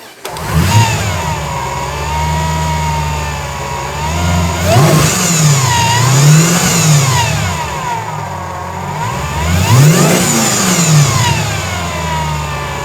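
A supercharged car engine idles close by, then revs hard twice with rising and falling swells, settling back to a rough idle between bursts. No one speaks.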